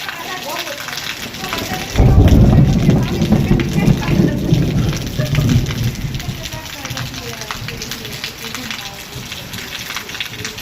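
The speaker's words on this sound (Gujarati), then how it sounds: "ભાઈ હવે જો ગાજે." A deep roll of thunder breaks out during heavy rain, swelling suddenly and rumbling low for several seconds before fading back into the steady hiss of the downpour, with voices talking nearby.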